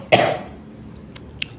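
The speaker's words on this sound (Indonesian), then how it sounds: "batuk ya" A single sharp cough close up, followed by a short quiet stretch with a couple of faint clicks.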